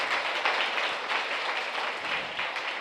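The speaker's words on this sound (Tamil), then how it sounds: "அன்போடு நாம் கைத்தட்டி வரவேற்போம்" Congregation clapping in welcome during a novena mass at a Catholic shrine, a dense, steady wash of applause from many hands held throughout, no voices over it.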